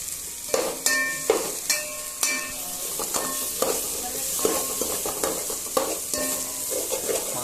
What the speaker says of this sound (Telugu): కరెక్ట్ తొందరగా కలబెట్టరా మాడిపోతుంది మసాలా